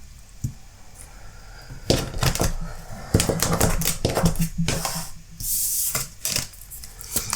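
Oracle cards are shuffled, pulled and slid across a table in close, quick bursts of papery rubbing and tapping, separated by short pauses.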